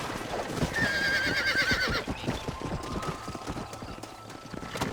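Horse hooves clip-clop in a quick galloping rhythm with a loud whinny in the opening two seconds, in the Red Dead Redemption video game, then the hoofbeats carry on more steadily at moderate loudness.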